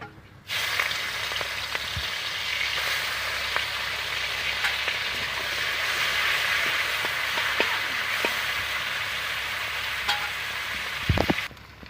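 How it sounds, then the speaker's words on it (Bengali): Shrimp frying in hot oil, a loud, dense, crackling sizzle that starts abruptly and holds steady, up close, with a few light spatula clicks near the end. "তো আমার তেলটা গরম হয়ে গেছে, আমি চিংড়ি মাছগুলো ভেজে নেবো।"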